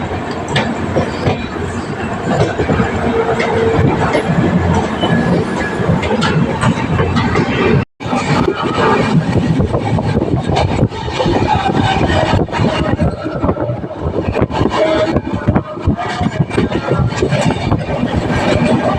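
Haldia SF Express train moving into a station, a loud sustained rumble and clatter of the wheels with a brief dropout partway through and some faint voices in the background.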